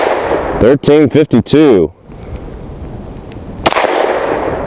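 A Glock 23 pistol firing .40 S&W rounds over a chronograph outdoors on a windy day: a man reads a number aloud, then a single loud, sharp report rings out with a lingering tail.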